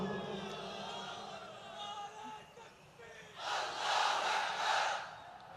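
A large crowd at an outdoor Islamic rally in a field in Sylhet roars a chant in unison in response to a takbir call, swelling loudly after a quieter stretch of low murmuring and hum.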